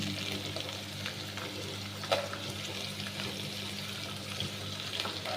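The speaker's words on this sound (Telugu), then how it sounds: "వేసుకున్న తర్వాత ఒకసారి మొత్తం కలుపుకున్నాను." Fried green chilies and spring onions are stirred in a hot pan: a steady low sizzle broken by light scraping and clicking of the spoon.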